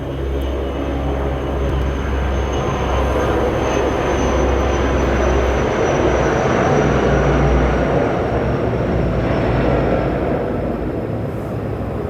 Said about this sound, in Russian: Извиняюсь за паузу, просто самолет пролетел.